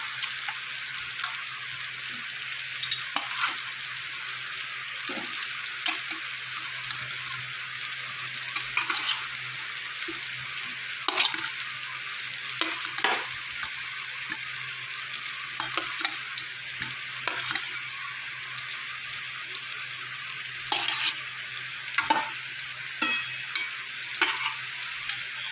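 Fried potatoes sauté with spices in a pan for a Bengali egg curry, giving a steady close sizzle broken by irregular scraping stirs throughout, with no voices.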